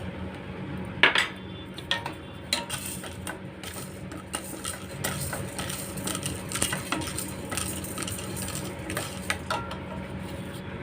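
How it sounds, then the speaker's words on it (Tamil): Metal clinks and scrapes against a pan as chana dal dry-roasts, with small dry rattling bursts, a steady background hum underneath and no talking. "இப்போ ஒன்று ஒன்றா வறுத்து எடுத்துக்கலாம்"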